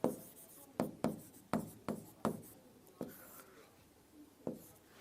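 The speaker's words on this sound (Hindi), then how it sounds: "मैं हाउस ऑफ कॉमन्स लिख देता हूं" Close marker or chalk strokes on a classroom board, heard as a handful of distinct scratchy strokes with short gaps between them, fairly quiet in a calm room.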